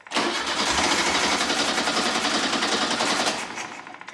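A 1975 Volkswagen Super Beetle engine, long unused, cranks and catches into a loud, uneven rapid rumble with sputtering pops, holding steady before easing slightly near the end, with no talking.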